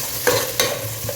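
Onions and green chilies frying in a pan for chicken dum biryani, stirred with a few distinct scrapes over a steady background sizzle.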